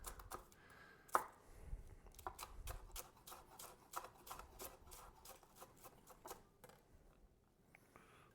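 A knife thinly slices an onion on a cutting board for homemade egg rolls. The strokes come as a quick run of sharp, close taps at a fairly even rhythm, all faint and with no talking.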